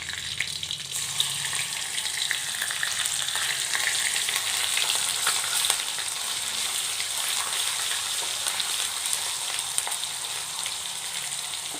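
Ginger garlic paste frying in a hot pan gives a loud, dense, continuous sizzle that stays steady throughout with no voices.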